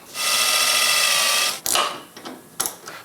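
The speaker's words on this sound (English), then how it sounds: "We're going to mount it right here on the firewall with a small self-tapping screw." A small self-tapping screw is power-driven into the firewall of an FJ Cruiser: a loud, steady high-pitched whirring burst of about a second and a half, followed by a few short clicks and clunks.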